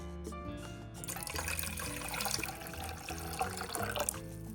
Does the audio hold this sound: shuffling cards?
no